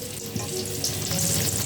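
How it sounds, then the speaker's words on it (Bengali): Cubes of paneer frying in oil in a pan until browned, a close, steady crackling sizzle with small pops throughout. "পনিরটাও সুন্দর করে ভাজে নিচ্ছি"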